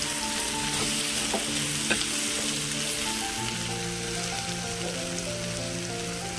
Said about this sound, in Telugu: ఇంకా సాల్ట్ను కారం కూడా యాడ్ చేయలేదు. ఓన్లీ వేయిస్తున్నాను.